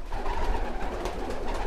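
Pigeons in a loft holding about forty birds, mostly females, give a soft continuous cooing murmur up close, a steady low burble with no pauses.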